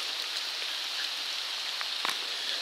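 Heavy rain and rushing floodwater pour through a tunnel on a flooded Boso river walk, a steady dense hiss throughout with no voices.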